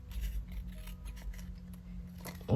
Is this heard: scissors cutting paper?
yes